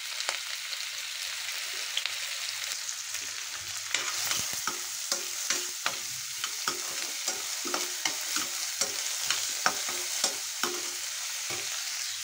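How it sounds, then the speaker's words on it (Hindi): Onions sizzle in hot oil over browning garlic, stirred steadily in a pan, with frequent clicks and scrapes of the spoon over a constant frying hiss; no talking. "हल्का हल्का हिलावांगे प्याजा नूं आपां।"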